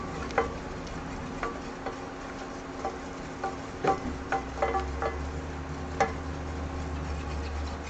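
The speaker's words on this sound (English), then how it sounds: "It's a lot of stirring involved." A flour roux for brown gravy is stirred steadily in a pan, giving a soft continuous sizzle and scraping with irregular light ticks of the utensil against the pan, close and moderately quiet, with no voices.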